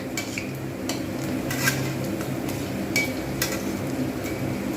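Batter for a teasel gourd chop is beaten with quick, rhythmic taps and scrapes of a whisk or spoon against a bowl, close and steady, with no talking.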